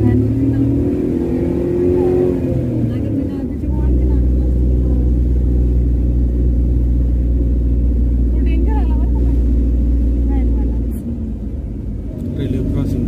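A car engine labours in first gear up a steep mountain road to Matheran, a loud, steady low drone with a brief shift in pitch partway through, and voices talking over it.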